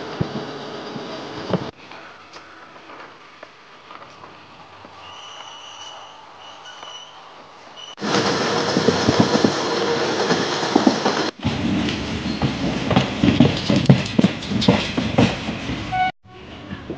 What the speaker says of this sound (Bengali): ট্রেন আমার সমস্ত প্রতীক্ষার অবসান ঘটিয়ে এগিয়ে যেতে থাকে